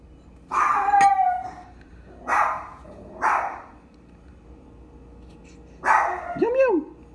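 A dog barks nearby indoors in several separate bursts, a sharp bark, then two more, then a final bark trailing into a whine, with faint background talk.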